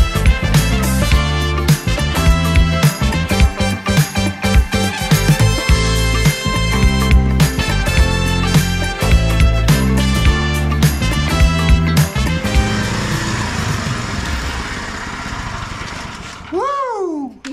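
A lawn mower cuts grass in up-and-down passes on a hot, humid Australian day, its engine droning loud and steady close by before the sound drops away with a brief rising whine at the end.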